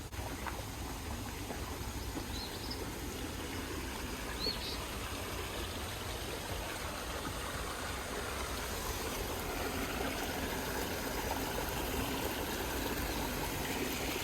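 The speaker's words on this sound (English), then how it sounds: "Going over this little waterfall going back to Hunt Cabin." A small waterfall flows beneath a bridge in a botanical garden, giving a steady, continuous rush of water that stays even and close throughout, with faint bird chirps above it and no talking.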